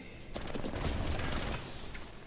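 Rapid automatic gunfire in the battle royale video game Apex Legends during a championship match, a short burst of dense shots lasting about a second and a half, fairly quiet.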